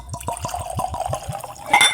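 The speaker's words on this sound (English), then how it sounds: "let me just pour this up" Liquid pours into a glass for a cocktail tasting, with a steady run of splashy gurgles and drips up close, finishing in a brighter rushing splash.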